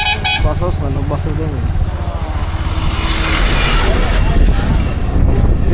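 A bus drawing near on a road beside a fishing spot, its horn sounding in loud repeated blasts over engine rumble, with people talking close by.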